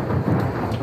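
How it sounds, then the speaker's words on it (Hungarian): Heavy rain pours during a thunderstorm in Berlin, a dense steady roar of downpour with a low rumble of thunder underneath, loud and close, no voices. "Szakadt az eső a német fővárosban, mintha dízsából öntötték volna."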